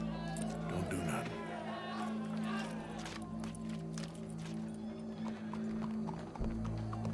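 Horse hooves clip-clop in a rhythmic run of hoofbeats, fairly close, with crowd chatter and voices mixed underneath and a brief whinny-like sound.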